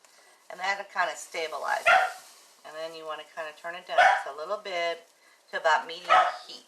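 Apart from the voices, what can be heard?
dogs barking outside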